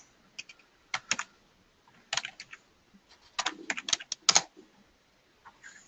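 Typing on a computer keyboard, close quick clusters of key clicks in irregular bursts separated by short pauses, no voices.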